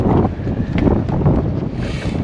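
Wind blowing during night bass fishing, loudly buffeting the microphone with a low, uneven rumble and gusty roar for a couple of seconds, with no voices.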